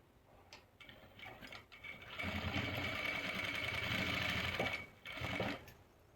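A sewing machine runs a steady mechanical whir while stitching a dhoti salwar leg, starting with short starts, then one sustained run, a brief stop and a final short burst, close but fairly quiet.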